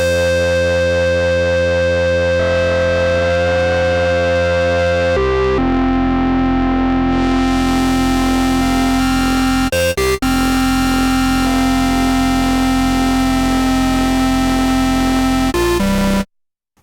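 Thick, sustained Moog Minimoog synthesizer tones with three stacked detuned oscillators, buzzy and loud, holding steady chords that shift pitch a few times without any talking.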